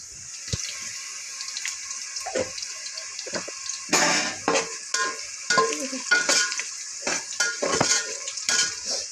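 Onions browning in a pan with coriander powder stirred in, giving a soft sizzle punctuated by repeated scraping and clinking stirs that grow busier in the second half.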